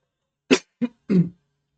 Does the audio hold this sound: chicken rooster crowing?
no